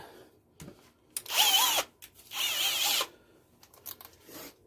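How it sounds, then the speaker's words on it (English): A power drill bores quarter-inch pilot holes for a DIY kayak camera mount in two loud, sustained bursts of about a second each. Brief clicks and handling sounds fall between and after them. "And we're just going to drill those pilot holes out to 1/4 inch."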